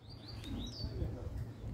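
A small bird held in hand gives a few thin, high chirps, close but faint, over low handling noise and quiet background sound.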